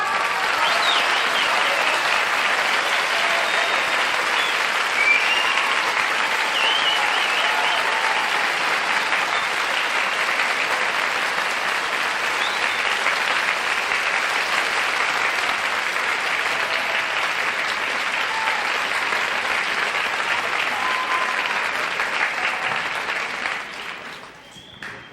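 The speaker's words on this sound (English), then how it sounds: "You can tell from that applause." A television game show studio audience applauds the arrival of a mystery guest, with a long, loud, even burst of many hands clapping that holds steady for over twenty seconds before fading out abruptly at the end.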